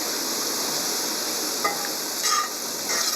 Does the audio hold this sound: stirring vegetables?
yes